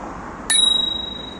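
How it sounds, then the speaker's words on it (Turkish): One bright bicycle bell ding rings out close by, its metallic tone lingering and slowly fading over steady background noise. "Şurada gördüğünüz gibi zili var bakın."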